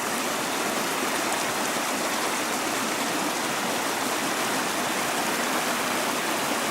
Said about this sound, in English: it's always accompanied by the bubbling brooks here